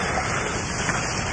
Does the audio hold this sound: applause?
no